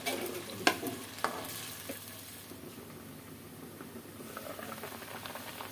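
Boiled potato being cooked in a frying pan, with a quiet bubbling sizzle, a couple of sharp utensil clinks near the start, then soft stirring scrapes.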